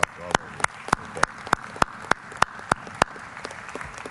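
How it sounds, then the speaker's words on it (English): Sparse applause at the opening plenary session of the Summit of the Americas in Los Angeles; distinct individual claps spaced at a fairly regular pace, fairly close, with faint voices underneath. "So a round of applause to all of you."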